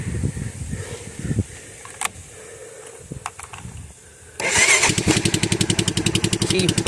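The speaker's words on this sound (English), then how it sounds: "And bonus, Honda cold start." A Honda electric-start engine cold starting: a few quiet clicks and knocks, then the motor catches abruptly and settles into a loud, steady, rapid idle close by.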